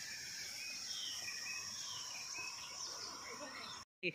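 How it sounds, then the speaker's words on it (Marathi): Faint, distant sparrow chirps and twittering in village fields near a river, over a soft outdoor hum, continuous and gentle, ending with a brief cut. "परत रानामध्ये चिमण्यांचा ओरडायचा तो आवाज"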